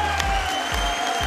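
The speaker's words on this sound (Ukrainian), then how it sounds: "якщо подивитись на глядачів, які в ейфорії аплодують" Spectators at a professional boxing show applaud, a dense continuous wash of clapping filling the arena, with a steady electronic hum underneath.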